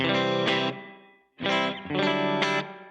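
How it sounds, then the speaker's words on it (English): Electric guitar played through a Donner reverb pedal on the room setting with the decay turned well up, loud sustained chords in three bursts ringing into a lingering wash of reverb, with no voices. "I actually like the room reverb at about 9 o'clock, and then I like the decay turned up pretty well for that."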